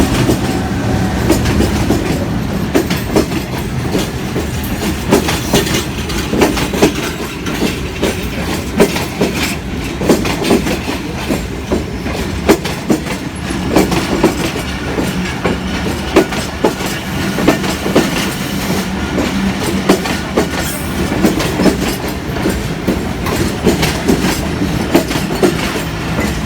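A passenger train travels between Lahore and Chaklala, its wheels beating a continuous loud clickety-clack on the rails beneath a steady rumble, heard from inside the carriage with no voices.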